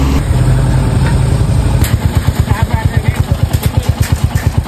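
A motorcycle engine, started only a minute earlier, idles close by. A loud, low rumble settles into an even, rhythmic chug of regular pulses.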